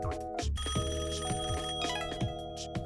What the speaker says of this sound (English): I recorded the phone, which apparently she can't hear from there